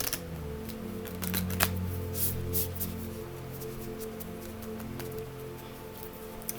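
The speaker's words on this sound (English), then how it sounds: "One more shuffle." Tarot cards being shuffled at close range, a run of soft papery riffles and quick slaps with a few sharper card snaps, over a steady low hum.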